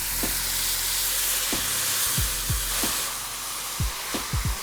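Loud, steady sizzling fills a hot pot as broth is poured in for wild duck risotto, with several sharp clinks of a utensil knocking against the pan.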